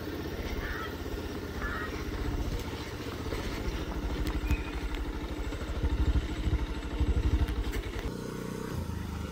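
A motorcycle rides off to be parked near Rani Mahal palace in Palpa, Nepal, its engine a steady mid-pitched drone with a throbbing rhythm that surges a little toward the end, close and continuous with no talk.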